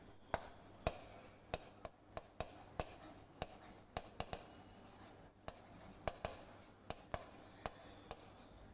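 Pen or marker writing physics equations by hand on paper or a board, heard as a rapid series of crisp taps and short scratchy strokes, close and fairly quiet, with irregular pauses between bursts.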